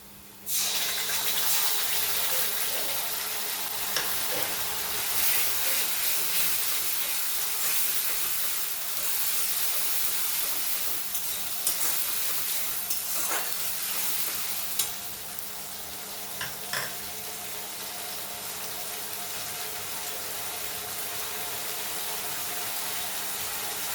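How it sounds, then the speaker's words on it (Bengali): Ground spice paste hits hot oil with reddened onions and nigella seeds in a kadai for an egg tadka, sizzling steadily for a long stretch, with occasional stirring scrapes and clicks. "পেস্ট করা মশলাটাকে কড়াইতে দিয়ে দিলাম।"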